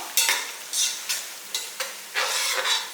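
Onions browning in oil for a one-kilo mutton dum biryani sizzle under repeated stirring, with about six rhythmic spatula scrapes rising over the steady frying hiss, close by.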